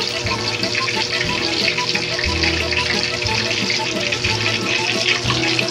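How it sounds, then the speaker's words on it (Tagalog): Cooking oil spattering and crackling while frying, a loud continuous sizzle with popping bursts and lower rumbling underneath, no talk. "Kumalsik yung mantika."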